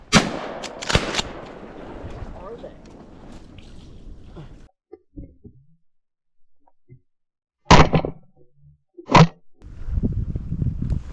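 Shotguns fire at ducks during a public-land duck hunt in Arkansas: a quick cluster of sharp, loud blasts at the start, then two more separate shots several seconds later, with quiet gaps and faint rustling in between.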